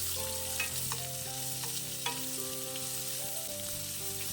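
Thinly sliced onions, two medium ones, sauté in a pan for Kerala egg curry, giving a soft continuous sizzle with occasional stirring scrapes, close up and without speech.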